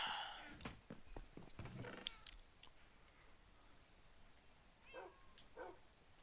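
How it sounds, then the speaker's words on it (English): A wolf barking in a blocky adventure video game, a cluster of short deep woofs early on followed by two fainter barks later, over quiet game ambience. "That that wolf has a big woof."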